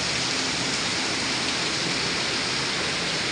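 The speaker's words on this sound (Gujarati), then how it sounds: "વરસાદ બહુ ખતરનાક છે" Heavy rain pours down in a dense, unbroken roar of water, loud and constant throughout with no voices.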